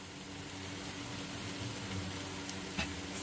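Curry leaves sizzle steadily in hot oil in a pan of Telugu fish curry, a constant close hiss with a slight swell as they settle in.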